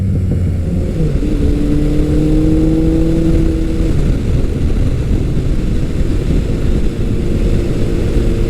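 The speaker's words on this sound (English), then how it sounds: "I love the sound of a big, kind of the deep sound of a big 4-cylinder with a 4-in-1" Vintage Suzuki GS-series four-cylinder motorcycle engine breathing through a 4-in-1 exhaust, a steady deep rumbling drone with a brief rising rev around the fourth second, then settling back to an even throb, no voices.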